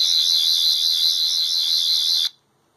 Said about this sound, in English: if you hold this button down, you get your screwdriver sound